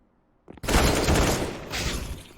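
AUG and AK rifles fire in Counter-Strike on the Nuke map: after a brief quiet, a sudden loud volley of rapid overlapping shots erupts and rattles on to the end.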